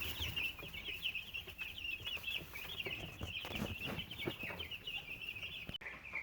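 Cornish Cross chicks cheep and cluck at feed time, a busy, continuous chorus of high peeping close by, with soft pecking and shuffling underneath.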